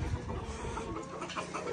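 Chickens cluck and mutter in a backyard pen among other poultry, a busy, close cluster of short calls over a noisy outdoor background, with no talking.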